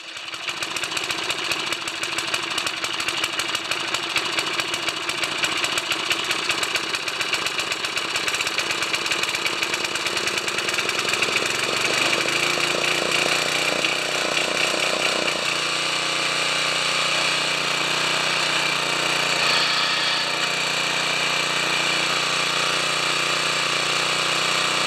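Old garden machine engine with an automatic choke cranks a few times, then catches and runs on steadily, a loud continuous mechanical drone with rapid firing pulses and no talk.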